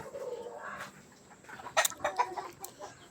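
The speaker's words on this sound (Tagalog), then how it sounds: "bisitahin natin yung ating mga alagang mga manok" Backyard chickens cluck in short bursts at close range over a quiet outdoor hum, with a few sharper squawks toward the end.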